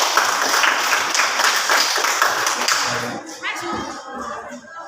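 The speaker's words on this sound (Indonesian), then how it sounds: "sekali lagi kita beri aplaus untuk kalian semua" A classroom of students claps for the student groups, a dense round of applause that fades after about three seconds as a voice begins talking.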